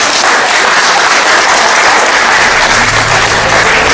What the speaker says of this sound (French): Je vais vous demander d'applaudir bien fort.